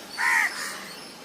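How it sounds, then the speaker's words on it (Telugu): A crow gives one clear, harsh caw at close range, followed by a faint trailing call over quiet outdoor background. "కాకిని పట్టుకుంటావా? అదేంటో మాట్లాడుతుంది నీతో."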